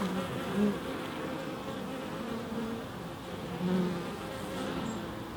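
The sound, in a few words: honey bees buzzing at the hive entrance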